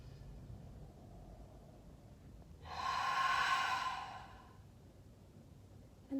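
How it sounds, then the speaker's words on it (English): A single long, airy breath swells and fades at close range during a guided breathing exercise, standing out alone against faint room hiss. "Filling up to the top, maybe even holding for a moment before you exhale long."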